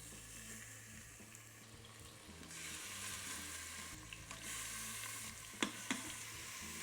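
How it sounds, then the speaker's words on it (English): Short ribs sear in oil inside a pressure cooker, giving a steady, close sizzle that swells slightly midway, with a couple of sharp pops and spatters near the end. "we're getting ready to pan sear these. I have my pressure cooker here."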